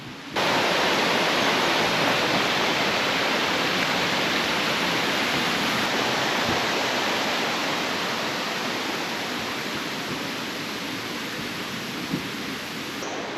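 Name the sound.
waterfall rushing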